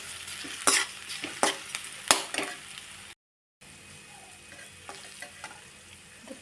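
Diced potatoes fry with a green chilli and ginger paste for sabudana khichdi, a steady sizzle broken by sharp scrapes of a spoon stirring the pan, briefly cut to silence midway before the crackle resumes, no voices.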